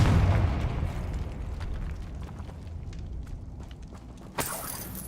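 A Confringo spell explodes in Hogwarts Legacy, a deep booming blast in a cave followed by a lingering rumble, with a sharper burst near the end.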